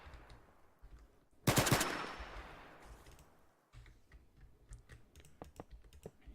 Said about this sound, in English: so you can see just how loud that gun is